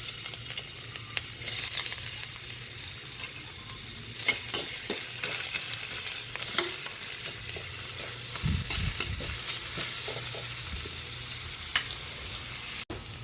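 Ginger sautéing in a pan as the first step of batchoy, a steady loud sizzle with scraping stir strokes throughout.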